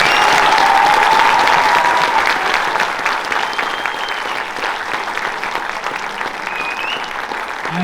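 Banquet audience at a high school fall athletic banquet gives sustained loud applause, a dense unbroken clatter of hands that eases slightly over several seconds, with faint whistles and a voice in the background.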